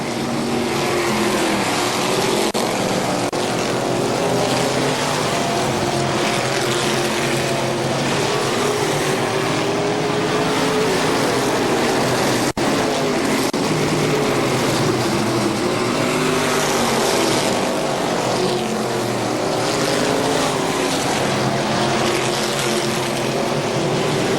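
Legends race cars roar around the KilKare Speedway oval in a steady, loud, continuous engine drone. The pack stays close together through the back stretch, and no voices are heard.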